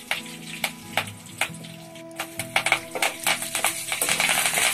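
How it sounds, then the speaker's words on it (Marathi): Cumin and mustard seeds frying in a pan for vada pav, giving quick sharp pops and crackles that grow denser toward the end over a low steady sizzle. "तर यामध्ये टाकलेले आहे जिरे आणि मोहरी। तर हे थोडा वेळ आता परतून घेऊ।"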